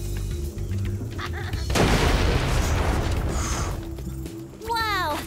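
A bomb blasts in the game Spyro Reignited Trilogy, a loud broad burst of noise that rumbles for about a second over steady game music, followed by chirpy synthetic effects.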